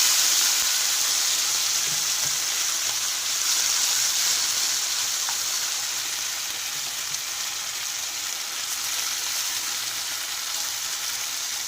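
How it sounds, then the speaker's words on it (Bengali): Amudi fish frying in hot oil, a steady broad sizzle that holds evenly throughout with no one talking, close and continuous. "তেলটা গরম হলে আমি একে একে মাছগুলো ভেজে নেব।"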